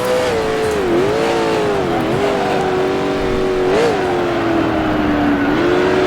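A 1966 Can-Am race car engine in the racing sim Grand Prix Legends, held at high revs as a loud, steady howl with brief dips and rises as gears change and the car crests a hill at Mont Tremblant.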